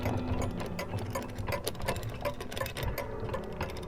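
A dense bed of small metallic clicks, ticks and ratcheting rattles overlaps continuously, busy and mechanical, at a moderate, steady level.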